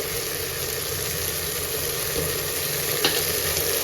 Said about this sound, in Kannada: ಇವಾಗ ಇದೆಲ್ಲ ಚೆನ್ನಾಗಿ ಫ್ರೈ ಆಗಲಿ.